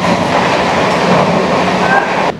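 Kanchan Kanya Express from Sealdah towards New Mal Junction running on rails, a loud close rumble of wheels and carriages that drops away sharply near the end.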